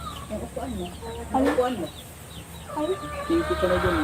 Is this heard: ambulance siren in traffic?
no